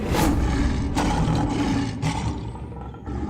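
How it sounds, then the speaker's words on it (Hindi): Deep, rough lion roars, loud and close, overlapping in a continuous growling rumble for a few seconds. "तो वहां शेर दहाड़ रहे थे"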